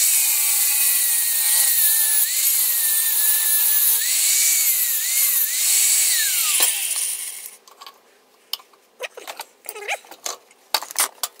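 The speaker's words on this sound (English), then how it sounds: "cut through the centre of the shaft." A hand saw cuts through the centre of a metal shaft clamped in a vise, giving a sustained close grinding rasp for several seconds before breaking into short, scattered scraping strokes and clicks.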